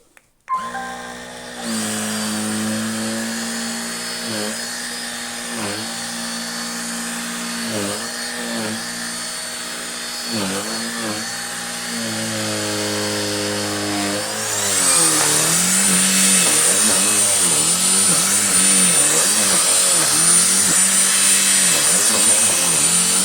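A Jimmy HW10 vacuum cleaner with a motorized brush runs close and loud with a steady whining motor hum, rising sharply to a higher, harsher pitch about two-thirds through as it switches to the faster speed.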